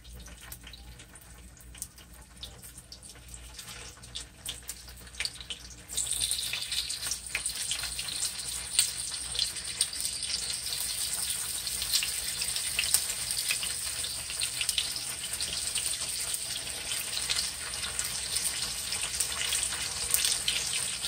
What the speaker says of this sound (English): I'm gonna add the sausages because I want to sort of fry them up